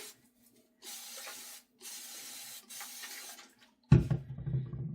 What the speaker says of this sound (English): I like to hold the wig upside down and I like to just spray water all over it